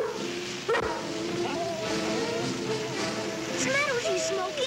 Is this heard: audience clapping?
no